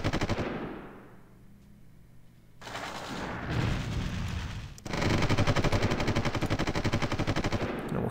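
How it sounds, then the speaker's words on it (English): Aircraft guns firing at a Zeppelin in the war strategy game Supreme Ruler Ultimate, loud rapid machine-gun bursts that open the clip, pause, then return in a sustained close rattling stream. "let's shoot down that Zeppelin"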